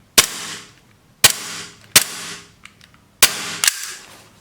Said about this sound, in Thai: สังเกตนะครับตัวนี้ค่อนข้างยิง แรงถีบค่อนข้างดีนะครับ